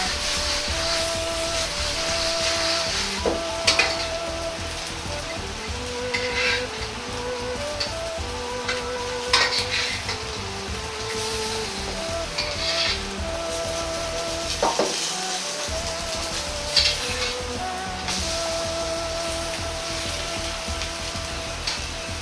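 Taiwanese scallion pancake frying in a pan, one side cooking for about five minutes before flipping, with a steady close sizzle and crackle and a few soft clinks and bumps, no talking, over quiet music.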